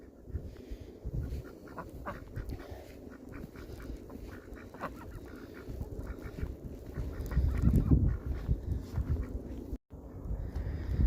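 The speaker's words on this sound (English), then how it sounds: "Honk, honk, quack, quack." Geese honk and ducks quack together outdoors in the snow at evening, a busy chorus of repeated calls at moderate distance that grows louder and denser near the end.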